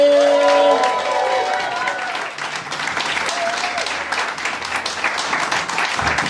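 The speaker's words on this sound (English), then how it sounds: "put your hands together, give loads of love, raise the roof for the wonderful Kiyanosh Sahebi, everybody" Audience at a comedy battle show breaks into loud, sustained applause with scattered cheering, a dense wash of clapping that starts right after a brief musical sting and carries on steadily to the end.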